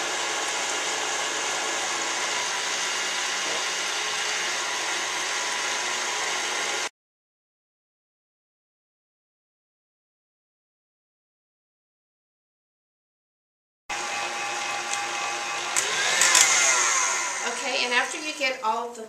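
An electric KitchenAid citrus juicer juicing limes gives a loud, steady motor whir. It cuts out for several seconds, then starts again with some squeaky, shifting grinding.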